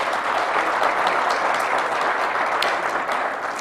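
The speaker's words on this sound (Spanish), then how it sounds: "Por favor, un aplauso." Dense, steady applause from an audience at a technology and productivity panel, continuous and full throughout with no talking over it.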